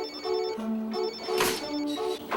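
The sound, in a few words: phone ringtone ringing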